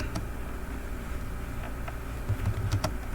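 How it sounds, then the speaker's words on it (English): Computer keyboard typing, a few soft scattered keystrokes over a steady low hum, fairly quiet and close, with no talking. "let's type this in"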